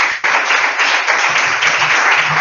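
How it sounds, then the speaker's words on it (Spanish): Attendees at a workshop break into applause, a loud, sustained patter of many hands clapping that starts abruptly and continues evenly to the end. "un aplauso"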